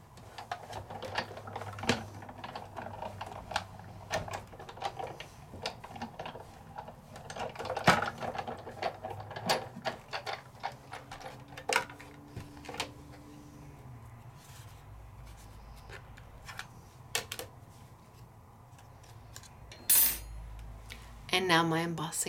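A Sizzix embossing machine cranks a folder holding a leaf through its rollers, giving a steady run of soft mechanical clicks and grinding rattles, fairly quiet and close, with a few louder knocks and no talk.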